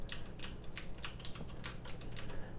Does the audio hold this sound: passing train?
no